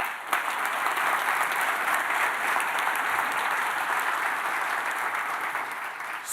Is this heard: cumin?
no